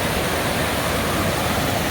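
Loud, steady roar of river water rushing at a trail crossing in Oregon, broadband and continuous throughout with no voices or breaks.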